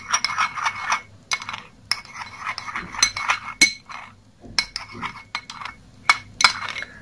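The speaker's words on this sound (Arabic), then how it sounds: "هتمزجيهم مع بعض كويس جدا" A spoon scrapes and clinks against a glass bowl while hair mask ingredients, including oil, are stirred together, a close, irregular run of bright tapping and clinking with short pauses.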